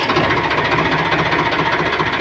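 A Farmtrac 60 tractor's diesel engine runs steadily close by, a loud, even knocking idle with a constant rhythmic chug and no voices over it.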